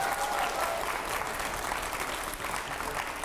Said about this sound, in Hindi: मैं चाहूंगा पहले तो जोरदार तालियां होनी चाहिए।